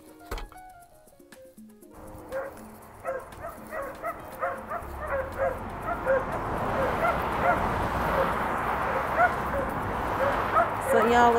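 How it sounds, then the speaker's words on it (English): Several dogs bark and yip repeatedly in nearby yards, the barking starting after a brief pause and growing louder and busier toward the end. "the dogs in these yards over here barking"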